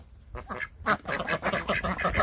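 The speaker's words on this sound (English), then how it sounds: "male ducks don't quack. They sort of sound like wimpy chickens." Male chocolate runner ducks in a garden give a run of hoarse, raspy calls, not true quacks, close and fairly loud, several overlapping in quick irregular bursts.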